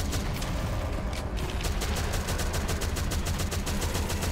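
Dense, continuous gunfire from many weapons in the Shadowgun Legends game, a loud unbroken roar of rapid shots with a steady rhythmic crackle running through it.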